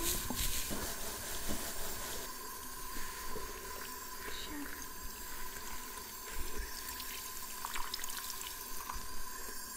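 Water runs steadily from a tap while hair treatment is rinsed from the scalp, a continuous close hiss and splash with a faint voice underneath.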